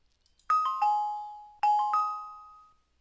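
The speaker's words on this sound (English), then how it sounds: "if you click on the test, it's going to play chimes first on the left side" Windows speaker test chimes on a headset ring out twice, each a bright descending sequence of three bell-like tones that decays, with the first set playing on the left side and the second on the right.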